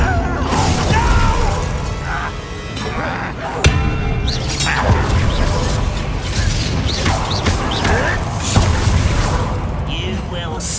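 A Confringo blasting curse cast in combat in Hogwarts Legacy, heard as repeated crashing, shattering impacts and clanking mechanisms over dense, loud battle noise, with voices speaking throughout.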